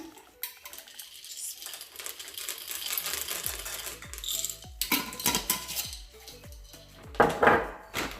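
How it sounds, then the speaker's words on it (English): Dark chocolate chips poured by hand into brownie batter in a bowl, a scattered run of small clinks and patters against the bowl that grow busier and louder toward the end, with no talk. "next I'm gonna add some dark chocolate chips"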